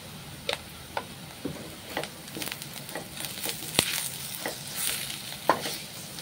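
Curry leaves and turmeric hitting a hot pan for a fish curry, a steady low sizzle with scattered crackles, ticks and stirring clatter, close and alone.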